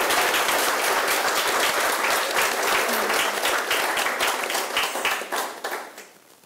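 Sustained applause from an audience at a university awards ceremony, dense and steady clapping that fills the room before gradually thinning and fading out.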